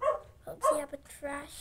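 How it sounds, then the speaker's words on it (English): A dog barks a few times at a moderate distance, mixed in with someone talking over it. "I hear a dog."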